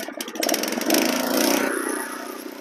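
A Husqvarna DT22 dethatcher's small engine catches on choke and roars up, a loud close buzzing rev that settles into a steadier running drone within a couple of seconds.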